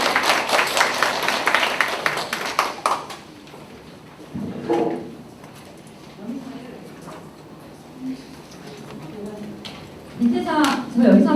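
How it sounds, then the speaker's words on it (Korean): An audience at an evening information session applauds a speaker being introduced. The dense clapping lasts about three seconds, then quieter talk and a few small knocks follow. "박수로 맞아주십시오"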